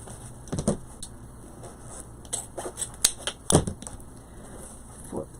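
Scissors snipping through ribbon ends while assembling a peacock wreath, a few short crisp cuts and rustles at close range, quiet and alone.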